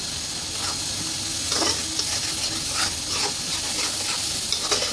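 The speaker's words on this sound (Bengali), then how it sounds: "কাঁকড়াটা কষাচ্ছে, মানে মশলাটা কষাচ্ছে" Crab masala spices frying in oil, a steady close sizzle with bursts of stirring and scraping through the paste, no talk.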